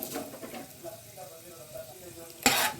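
Bay leaves and whole spices sizzling in hot oil in a pan while mushroom pulao is prepared, a soft crackling fry with light stirring and one louder burst of spatter near the end.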